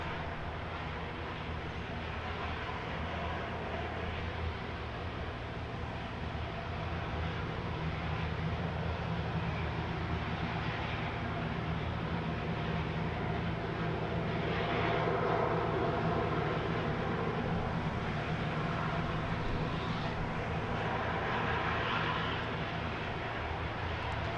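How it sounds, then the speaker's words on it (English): A Cessna 404 comes in to land at East Midlands Airport, a steady broad engine roar heard from a distance that swells slightly midway, with no voices. "It's that Cessna 404. So what is it, one of those endurance aircraft? Is that what it is that just came into land?"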